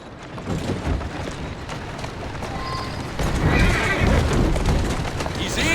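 A horse neighs and whinnies in Assassin's Creed Syndicate, with hoof clip-clops over a steady rumble of game ambience, growing louder toward the end.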